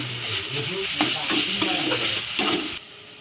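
Deboned bhetki fish being stir-fried in a hot pan for fish chops, a steady close sizzle with a few spatula scrapes and stirring knocks, then the frying noise drops away near the end.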